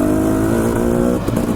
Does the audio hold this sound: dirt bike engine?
yes